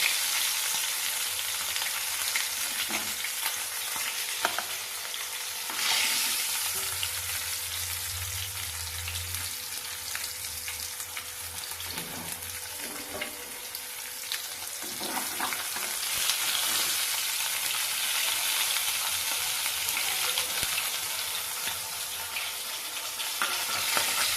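Pomfret fish heads frying in a pan give a continuous close sizzle with scraping and stirring mixed in, plus a brief low bubbling patch early on.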